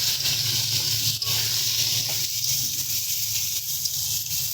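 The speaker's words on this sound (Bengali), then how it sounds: "পটল হালকা ভাজা হয়ে এসছে, এই পর্যায়ে দিয়ে দিলাম ঝিঙেটা" Steady, close sizzling of ridge gourd and pointed gourd frying in a pan, a continuous soft hiss with faint crackles and a few light stirring taps.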